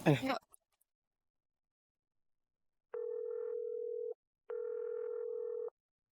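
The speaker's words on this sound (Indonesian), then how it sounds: "Bentar-bentar gua telepon dulu." A brief voice at the start, then silence, followed by two steady telephone dial tones, each lasting over a second with a short gap between.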